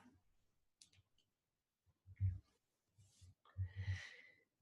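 A single mouse click on the Verify button of an affiliate web interface, short and quiet near the start, followed by a few soft low thumps and faint rustling.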